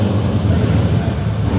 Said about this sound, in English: You can hear all the cars in the background getting going